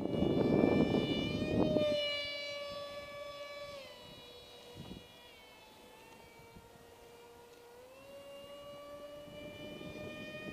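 A radio-controlled MiG-29 model jet turbine whines steadily at half throttle through a turn, a high sustained tone that bends in pitch, loud at first with a rushing pass, then settling and rising again.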